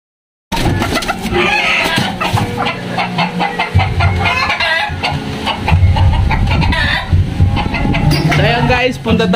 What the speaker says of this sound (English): ang ganda ng mga chicken niya